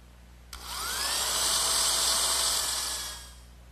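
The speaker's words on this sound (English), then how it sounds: "once again pre-drill some holes" A power drill bores pilot holes into wooden saddle pieces of a handmade rocking horse, starting with a sharp click and a steady high whine that rises, holds for about two seconds and then winds down.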